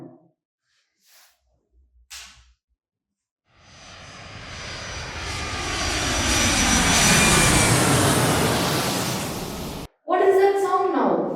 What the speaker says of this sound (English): What is that sound now? Oh, that is an aeroplane.